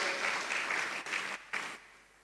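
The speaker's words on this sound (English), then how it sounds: "A round of applause, please. Round of applause." Brief applause at a law college inaugural dinner for a visiting professor, dense clapping that holds briefly, falters in two quick dips, then tapers off toward the end.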